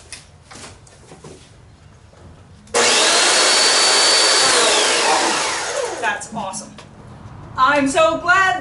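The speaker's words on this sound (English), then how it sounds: "It's time to fire up that chainsaw, Mike." A chainsaw snarls to life and runs loud and steady for about three seconds, then its engine note winds down, with brief voices before and afterward.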